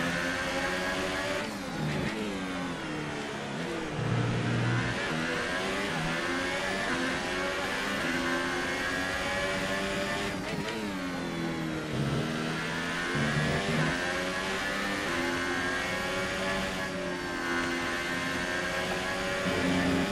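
F1 race car engine in the video game F1 2018, a loud, continuous high-pitched whine that rises and falls with gear changes and throttle, running steadily for the whole stretch with no talk.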